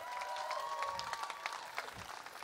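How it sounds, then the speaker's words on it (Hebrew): Guests at a wedding applaud the couple, with soft, fairly distant clapping and light crowd murmur under a sustained tonal sound, brief and fading. "מגיע להם כפיים"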